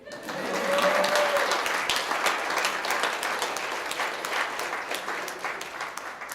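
Steady applause from a reading-series audience rises quickly and holds for several seconds, many hands clapping at a moderate distance, with a faint voice near the start.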